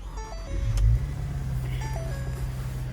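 A 2022 Ford Transit T-150 XL medium-roof van fitted with a BraunAbility rear-entry lift idles with a low steady engine hum, while a series of stepped electronic chimes sound close by.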